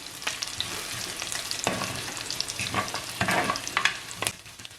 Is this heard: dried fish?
yes